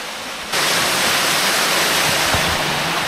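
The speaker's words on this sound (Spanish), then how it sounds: "Escuchen cómo baja el agua" Steady rushing water flowing down a stream in a quiet rural corner of Cyprus, starting abruptly after a half-second of near silence and continuing as an even, close, broadband wash.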